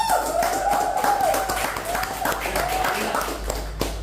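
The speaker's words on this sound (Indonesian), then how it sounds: "Yuk tepuk tangan untuk Pak Wanda." A studio audience claps for a guest on a talk show, a scattered run of claps heard under a presenter's ongoing speech.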